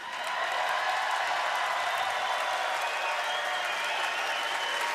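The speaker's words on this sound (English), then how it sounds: "how about a round of applause for the great city of Columbus?" A large arena crowd at the NHL All-Star fantasy draft applauds the host city of Columbus, a dense, steady wash of clapping and cheering that swells quickly and holds loud throughout.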